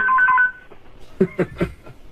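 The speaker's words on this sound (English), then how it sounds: "Oh, that's my mental hospital. That's a special ring they have." A few quick electronic telephone tones sound at once, followed by a short series of soft clicks or taps, all brief and close in a studio setting.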